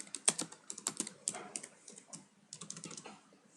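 Close, quick keystrokes on a computer keyboard typing a short phrase, in irregular bursts with a brief pause midway, no voices.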